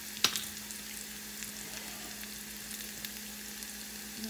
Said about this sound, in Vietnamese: Cái nước bên đây nó sôi rồi đó mọi người